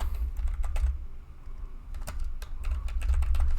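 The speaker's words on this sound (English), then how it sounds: "If you're on Notepad and you type" Fast, irregular clatter of keys on a computer keyboard as text is typed into Notepad, close and crisp with a brief pause midway.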